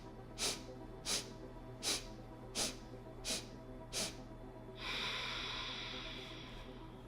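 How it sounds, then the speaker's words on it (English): During a Kundalini breathing exercise, a person takes six short, sharp nasal sniffs at an even pace of roughly one per second, then lets out one long, steady breath through the nose. The breathing is close and alone. "inhale through the nose in 8 parts. So 8 sniffs, and then 1 slow exhalation through the nose"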